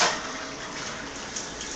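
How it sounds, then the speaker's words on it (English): Water sprays from a Delta shower head with the diverter pushed in, a steady, close hiss of rushing water without talk. "I'm gonna push this in and get the shower head going"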